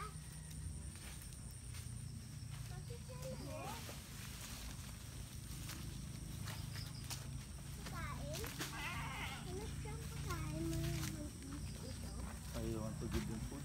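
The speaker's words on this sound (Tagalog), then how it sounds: "Ay, mga kambing." Goats on a goat farm in Batangas bleating repeatedly, wavering cries from several animals at close to moderate distance over a steady outdoor background, with people talking at times.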